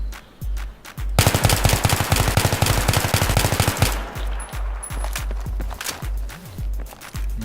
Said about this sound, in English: Burst fire, controlled recoil.